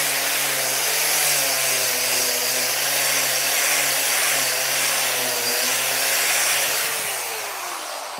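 An angle grinder runs continuously in a workshop building a Darth Vader TIE Fighter model, giving a loud, even, hissing whine that holds for several seconds before easing slightly at the end, with no voices.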